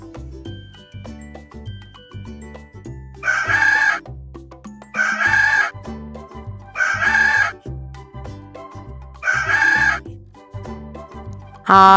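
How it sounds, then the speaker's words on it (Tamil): A rooster crows four times in a row, each loud call standing out over a steady musical backing in a farm-animal sounds lesson for children. "சேவல்"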